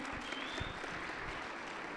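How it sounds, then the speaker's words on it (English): Steady audience applause, dense clapping from a crowd at a constant level throughout, at a real estate roadshow event in Kagiso. "Round of applause to you, Mr. Mdaka."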